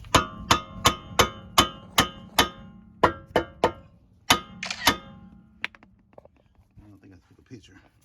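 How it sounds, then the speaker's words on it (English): A mallet hammer strikes a tie rod nut on a Ford Edge or Lincoln MKX, about a dozen sharp metallic whacks in a steady rhythm, close and loud, followed by a few scattered clinks. "we'll whack on this with an old mallet hammer"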